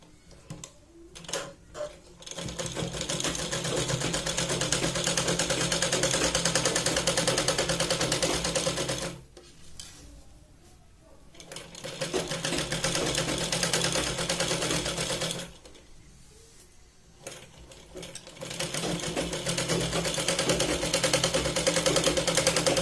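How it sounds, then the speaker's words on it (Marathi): Sewing machine stitching a Katori blouse seam in bursts, a close rapid mechanical whirr that runs for several seconds, stops briefly twice, then starts again. "परत जे आहे ती मी तिसरी शिलाई लावून घेते"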